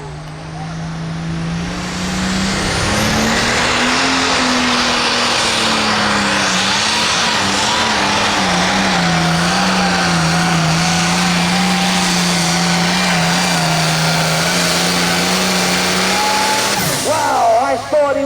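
A modified hot farm tractor at an NTPA county fair tractor pull roars loudly at full power for a long, sustained pull, its heavy engine note wavering slightly before cutting off near the end as an announcer talks over it.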